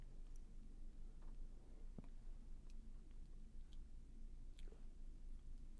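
Quiet crunching and chewing of a mystery-flavor Oreo cookie, close to the mouth, with soft irregular bites and mouth sounds running through the whole stretch and a faint sharper crack partway.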